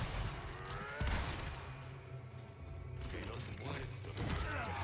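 A sharp gunshot bursts out about a second in, set among mechanical clanks and steady background sounds in the Resident Evil 4 remake video game.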